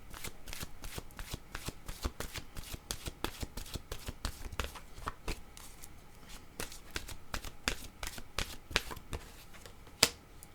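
Oracle cards being shuffled by hand in a steady run of crisp riffling snaps and flicks, close and fairly quiet, with one sharper snap near the end and no talking.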